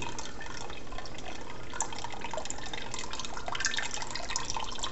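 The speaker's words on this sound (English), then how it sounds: "I'm going to let this drain for a second." Liquid drains and drips from a grain bag while brewing a partial extract beer, a continuous close watery trickle with patter, steady throughout and without talk.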